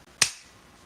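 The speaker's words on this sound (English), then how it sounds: "And then you'll bring your hands together in a clap." A single sharp hand clap during a morning meditation session, one crisp close impact that decays quickly into a quiet room.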